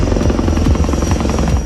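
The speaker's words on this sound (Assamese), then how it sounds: "আকাশত যুদ্ধ বিমানৰ গুমগুমনি" A military aircraft from an air force exercise on a highway at Moran, Assam, gives a loud, close, continuous roar with a steady buzzing tone across the short stretch and no voices present.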